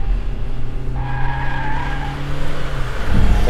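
A Toyota Yaris ATIV Premium Luxury brakes hard on a test track, tires letting out a loud sustained squeal over engine noise for a few seconds, with no talk.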